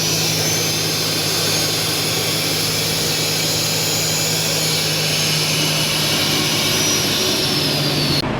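Turbocharged Holden Commodore ute engine running on a dyno at 2000 RPM with 10 psi of boost, a loud, constant roaring drone with a high turbo whine, steady throughout with no pauses.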